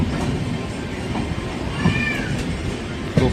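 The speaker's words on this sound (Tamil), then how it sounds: "கோயம்புத்தூரில் 2 ட்ரெயினுமே கிராஸ் ஆகுது." Intercity trains crossing on a railway near Coimbatore give a steady loud rumble of wheels on track, with faint metallic squeals and a sharp clack near the end, and no talk.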